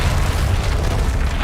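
A Revelio spell cast in the video game Hogwarts Legacy, a dense, booming magical burst with a deep low rumble held steady throughout the short moment, loud and alone without talk.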